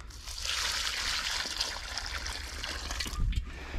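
Water poured from a container trickles steadily onto the soil at the base of a two-year-old olive sapling, a continuous close splashing gurgle that lasts throughout with a slight surge near the end.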